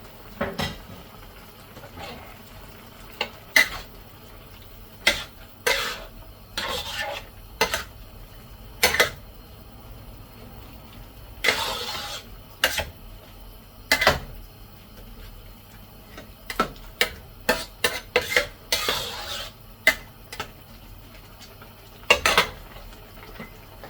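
Meat added to a pan for Quezon-style pansit habhab, with scattered clinks and scrapes of utensils against cookware, sharp and close, repeating irregularly with quiet gaps.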